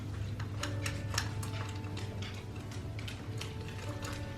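A bolt is turned by hand, finger tight, under a kids' activity table during assembly, giving a quick run of small ratcheting clicks and ticks, close and moderately loud, with no talking.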